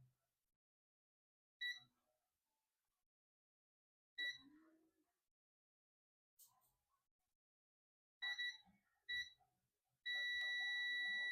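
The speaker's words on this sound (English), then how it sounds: "You can hear the beeping sound." Repeated short electronic beeps from a shorted capacitor on a Dell Latitude E5250 laptop logic board, sounding in irregular bursts separated by silence, then a longer continuous beep at the end, close and clear.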